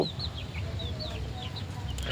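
Chickens on a poultry farm cluck and chirp in short, repeated calls over a low background hum, several birds close by and no voices.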